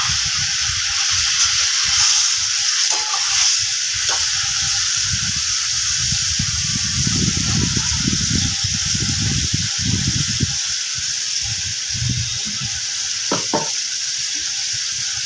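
Ground spice paste and a little water hitting a hot cooking pan for a bottle gourd (lau ghonto) dish, a loud steady sizzle with bursts of bubbling and hissing and a few clinks of a utensil.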